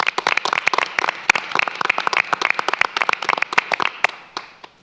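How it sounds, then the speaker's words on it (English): Scattered, uneven clapping from a small group of people at a school board meeting, sharp individual claps ringing out close by for several seconds before thinning out at the end. "give these ladies and gentlemen a round of applause"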